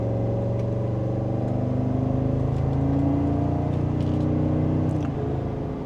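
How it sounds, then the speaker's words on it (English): A 2025 Cadillac Escalade SUV in sport mode accelerates mildly on the road, its engine a steady low drone with a gently rising pitch, heard from inside the cabin with no talking. "And just a mild acceleration."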